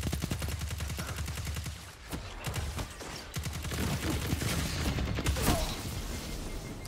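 Rapid automatic fire from the Dark Decider auto rifle in Destiny 2 PvP, steady bursts of close, loud shots running almost without pause over game noise.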